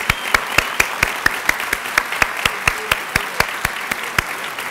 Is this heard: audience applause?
yes